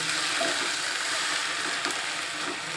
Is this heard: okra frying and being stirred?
yes